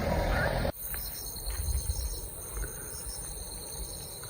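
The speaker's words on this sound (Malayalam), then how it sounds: "കിളികളുടെ ശബ്ദമാണ് കേട്ടോ" Insects trill in a constant high chorus, with faint calls of small creatures and birds scattered through a quiet forest backdrop near Churuli waterfall.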